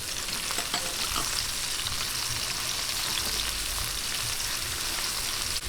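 Garlic and onion fry in a pan for a pork adobo with kamias, giving a loud, continuous, even sizzle close by with no talk.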